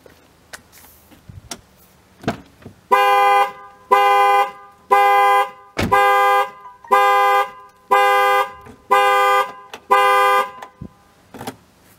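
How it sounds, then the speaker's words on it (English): A car's factory security alarm sounds through the horn when a door is opened on the armed vehicle: eight loud, evenly spaced honks about a second apart, each a sustained tone, following a few clicks and thumps. "when I open the door, the horn honks"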